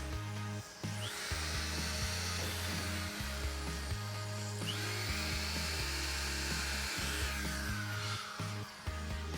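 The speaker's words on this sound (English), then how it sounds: "catching the metal bits as he drills the holes" A power drill bores holes through the sheet metal of a van body during a window installation. Its whining motor comes in repeated bursts, revving and stopping several times, with rising and falling pitch, close and alone.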